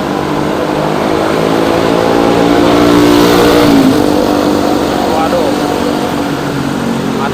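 A 2024 Yamaha Freego S scooter fitted with a bucket exhaust revs loudly and close, the engine tone rising and then falling back to a steady drone.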